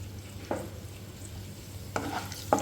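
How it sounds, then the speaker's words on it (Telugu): Mustard-type tempering seeds crackle and sizzle in hot oil with red chilli in a kadai, with a few soft spits and stirs over a low steady hum. "ఇప్పుడు పోపు గింజలు వేసేసుకుందాం."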